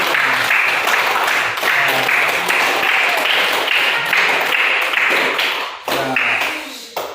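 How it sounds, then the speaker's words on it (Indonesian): A high-school class in Merauke, Papua applauding their homeroom teacher, dense steady clapping from many hands filling the room, tapering briefly near the end before resuming. "Tepuk tangan buat wali kelas dulu."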